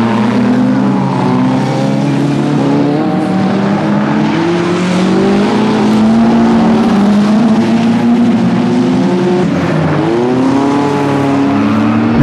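A Westfield sports racing car at a BARC Westfield SE Sportscar Championship race, 2000, roars past on the track with a loud, sustained engine note that rises and shifts pitch as it passes, other engines droning behind it.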